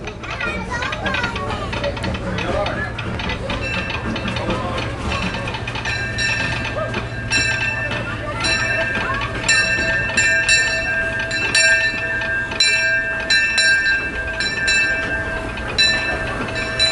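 Disneyland Railroad train pulling into its station, with a steady rumble, bell-like tones and a hissing wash, while children and other people talk nearby throughout.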